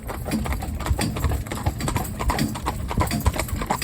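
A horse's hooves clip-clop at a steady trot on a hard surface, close and rhythmic, with faint birdsong in the background.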